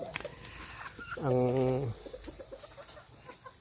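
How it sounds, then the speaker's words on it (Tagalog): A brooding mother hen sitting on four eggs in her old nest gives a single drawn-out clucking call, fairly close, set against a steady faint hiss. "itong inahin ko"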